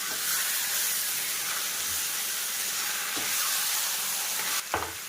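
Broiler chicken pieces for a curry fry in a pan while being stirred, making a dense, continuous close sizzle and hiss, with a sharper scrape near the end.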